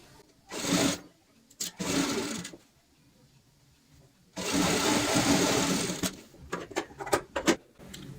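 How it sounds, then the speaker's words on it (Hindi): A sewing machine runs a loose basting stitch along a cushion cover in three bursts: two short runs, then a longer steady whir, followed by scattered clicks and handling sounds. "यहाँ पे कच्ची सिलाई लगा लेंगे जो कि हमें बाद में खोलनी होती है"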